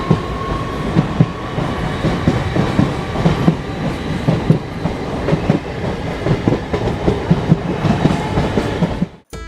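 A train rolls into a station in rural West Bengal, with steady clickety-clack from the wheels and continuous rumble throughout, loud and close and with no speech over it.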